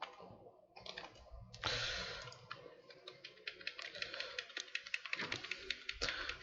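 Keys clatter on a computer keyboard as a C program is entered, the quiet taps coming in uneven bursts that turn into a denser run of clicks, with no talking.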